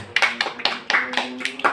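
A school class claps hands in a short burst of about seven separate, fairly close claps in an uneven rhythm, each one crisp and distinct.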